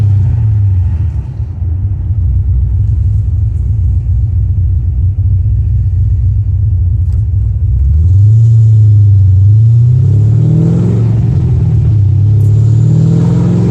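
A big-cam LS2 Pontiac GTO makes a drag racing pass, its deep, loud engine rumbling steadily up close before revving and climbing in pitch through a gear.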